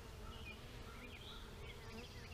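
Honey bees droning steadily inside an open hive during a comb inspection, a dense continuous buzz with faint passing whines of individual bees close by.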